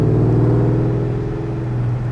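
A 2004 Ford SVT Terminator Cobra idles with a steady, deep, loud rumble and an even throbbing pulse, heard alone up close.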